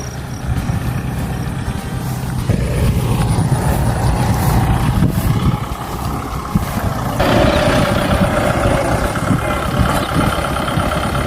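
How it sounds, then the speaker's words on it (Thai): An old two-wheel walking tractor engine runs loud and close in a rice-farming setting, a rough, continuous diesel chug with shifting load and no talk over it. "ตัวแรงครับรถไถขั้นนี้"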